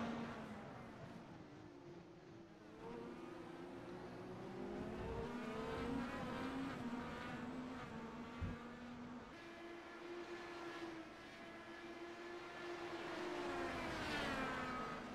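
Indy race cars, including an Alfa Romeo powered entry, racing at the Sebring Grand Prix in a sim race, engines droning and rising in pitch as cars pass, fairly faint and continuous with overlapping passes.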